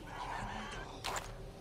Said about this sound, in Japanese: あ、ニワトリちゃん。